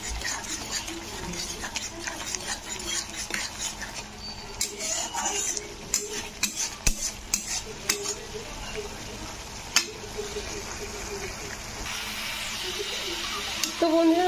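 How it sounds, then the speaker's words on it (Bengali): A spoon stirs tomato gravy in a pan, steady scraping and clinking against the metal over a soft sizzle, with occasional sharper knocks. "তো টমেটোটা দিয়ে কিন্তু এরকম 2 থেকে 3 মিনিট কিন্তু এরকম নাড়তে হবে"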